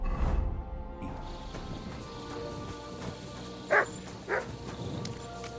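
A dog in Kingdom Come: Deliverance 2 gives two short, sharp barks close together near the end, set over a quiet game ambience that has a soft thump at the start.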